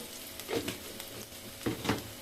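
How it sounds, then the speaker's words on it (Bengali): Ground turmeric frying in hot oil in a pan after onions have browned, for a rohu fish curry with Malabar spinach seeds; soft, steady sizzle with a few brief stirring scrapes, fairly quiet and close. "হলুদটা আগে তেলের মধ্যে ভেজে নিব"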